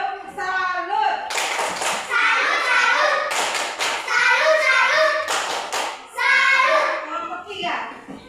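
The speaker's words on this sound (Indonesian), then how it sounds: "Tepuk salut." Children in a classroom perform a rhythmic salute clap in bursts of quick, loud, close handclaps, with children's chanting voices between and over the clapping.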